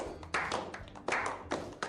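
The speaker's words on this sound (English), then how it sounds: "Kind of golf clap." A small pool tournament crowd gives a sparse golf clap, a few soft, scattered hand claps in loose rhythm that come and go over two seconds.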